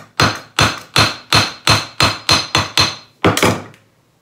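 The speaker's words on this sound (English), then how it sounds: "and then hammer that shut." A hammer closes a homemade coyote snare extension cable with about ten sharp, close metallic blows in a quick, even rhythm, ending in a slightly doubled strike. No talk is heard.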